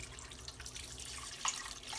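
Tap water runs into a stock pot for chicken stock, a soft, steady flow with light splashing. It is fairly faint and heard without any talking.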